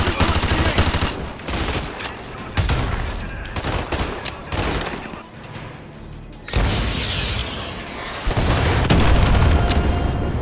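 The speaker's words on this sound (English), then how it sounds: "AGM missiles online. I repeat, AGM missile is online." AGM missile strikes pound targets in Call of Duty Modern Warfare 2, a dense barrage of loud booming explosions and rapid fire rolling almost without pause.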